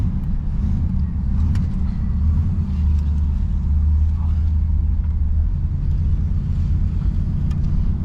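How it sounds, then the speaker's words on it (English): A 1968 Oldsmobile Delmont 88 with a 455 big-block V8, driven for the first time in over ten years, gives off a steady, deep engine rumble and road drone from inside the car with no clear break. "We're actually taking it for its first little drive."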